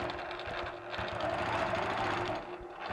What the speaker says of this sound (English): now I'm going to quilt the top half of the star